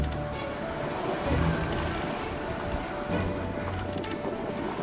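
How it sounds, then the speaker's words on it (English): Wind and waves on the Baltic Sea seen from a sailboat as the swell builds, with a steady, dense roar of wind and water running loud and unbroken throughout. "The waves get higher and higher,"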